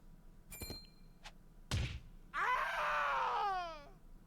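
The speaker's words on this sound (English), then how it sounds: "That was a hell of a scream." Scream from the video game Triangle Strategy, preceded by a couple of dull thuds and brief sharp sounds, then a sustained loud cry that trails off with a wavering fall.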